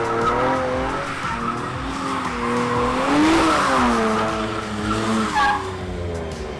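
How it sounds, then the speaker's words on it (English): A Nissan NISMO car rips donuts on a small patch of the Long Beach street course. Its engine drones loud and close while the tires squeal and skid without a break, and the pitch swings up and down as the car circles. "we're starting off ripping donuts"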